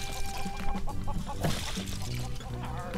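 Chickens clucking in the LEGO Worlds video game on PS4, with repeated short clucks over busy game music and effects that run steadily throughout.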